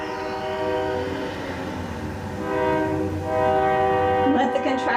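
A passing train rumbles steadily at moderate distance, its horn sounding in sustained tones near the end, with track noise underneath.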